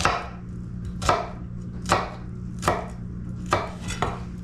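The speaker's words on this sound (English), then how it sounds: "Alright, come down there, mince like that." A kitchen knife mincing food on a cutting board while making St. Paul sandwiches: five sharp, evenly spaced chops about a second apart, close and loud over a low steady hum.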